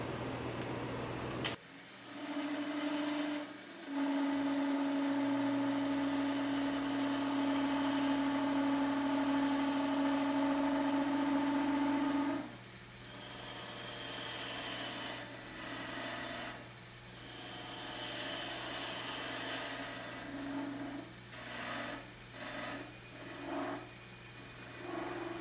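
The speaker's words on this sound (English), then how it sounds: "I'll just take a parting tool and go down and establish that tenon." A parting tool cuts a tenon into a madrone hollow form spinning on a wood lathe, with a steady close scraping rasp and hum that runs continuously for several seconds, then breaks into shorter cuts with brief pauses.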